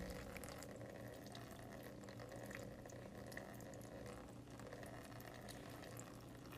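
A thin stream of tap water runs steadily and softly, a continuous faint splashing hiss with no voices over it.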